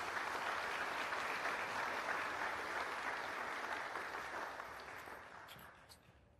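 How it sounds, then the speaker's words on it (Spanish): An audience applauds after a conference talk at an evaluation week event, a dense, sustained wash of clapping from a full room that holds steady, then thins and fades out over the last couple of seconds. "Un aplauso."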